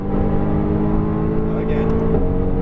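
Mercedes-AMG GT R engine on a racetrack, a loud, steady in-cabin drone with a brief dip at an upshift near the end, as a person speaks over it.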